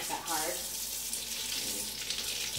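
Water from a wide-spray shower head runs steadily while rinsing small chihuahuas during a bath, a constant close hiss and splash with a few brief louder spatters.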